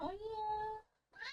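A cat meows in a Final Fantasy XIV game scene: one long, clear, tonal meow that trails off, then a short second sound after a brief pause.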